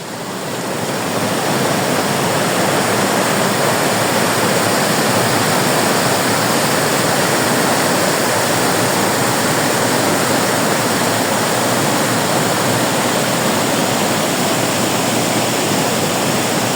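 A river rushing past its bank, a loud, dense and unbroken roar of flowing water that fills the whole stretch with no voices.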